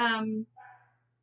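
A single dog bark, loud and close, then a quieter short yip as it fades out, with no one speaking.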